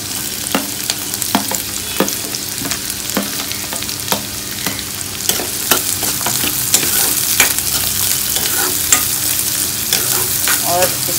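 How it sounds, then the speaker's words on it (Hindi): Onion fries in hot oil for a potato and long bean curry, a dense, loud sizzle broken by frequent sharp scrapes and taps of a spoon stirring against the pan. "अब हम इसमें प्याज डाल देते हैं।"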